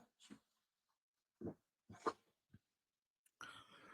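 A dog indoors in a room gives a few short, separate barks or yelps at irregular gaps, with quiet pauses between, ending in a brief burst of rougher noise.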